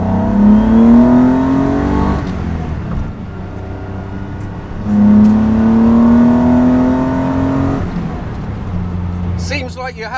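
A Datsun ZG sports car engine revs up twice, each rise climbing in pitch before easing off, loud and close with a throaty rumble underneath.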